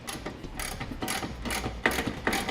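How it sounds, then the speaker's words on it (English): Ratchet with a 19mm socket tightening trailer hitch bolts on a 2012 Dodge Avenger, giving repeated rapid clicking strokes in an uneven rhythm, close and moderately loud, with no talking. "we want to go back and tighten it down using a 19mm socket"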